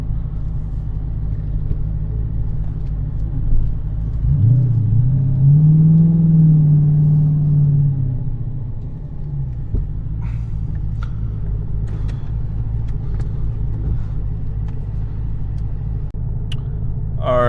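A 426 Hemi with a Whipple supercharger revs up once from a steady low idle rumble, climbing and holding briefly before settling back to idle; no one speaks.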